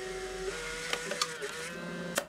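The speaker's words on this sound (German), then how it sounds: "kann ich das hier auswählen und direkt auf dem Drucker ausdrucken" An instax mini Link printer running a print job, giving a steady mechanical whir with a few faint clicks near the end, heard close and alone.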